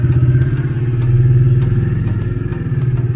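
A Bajaj Dominar 400 motorcycle on the road from Mumbai to Jaisalmer, its engine close and loud with a throbbing, pulsing drone that holds steady throughout, with faint clicks and clatter and no speech.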